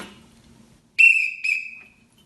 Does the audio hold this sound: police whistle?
yes